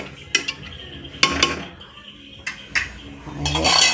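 A spoon stirs and scrapes food in a metal pot during home cooking, with several clanking knocks against the rim and a longer scraping stir toward the end, close and fairly loud.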